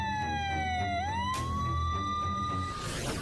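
A police car siren wails loud and close, its pitch dipping and then climbing again in a continuous sweep that holds for a few seconds over a low background rumble.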